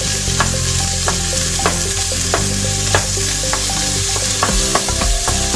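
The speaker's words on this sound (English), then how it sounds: "So I'm just going to brown it" Pork browning in a pan for coconut-milk adobo sizzles loudly and steadily, broken by repeated sharp scrapes and clicks of a utensil stirring the meat, close by.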